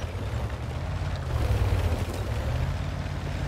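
A deep rumbling boom from an artillery shell exploding in World of Tanks fills the whole stretch, a broad low roar that swells slightly midway and rolls on without a break.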